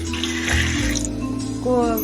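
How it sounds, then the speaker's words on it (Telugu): Water splashes and pours steadily into a pressure cooker with tamarind dal for about a second, then gives way to clinks and a faint voice. "మళ్ళీ వాటర్ వేద్దాం"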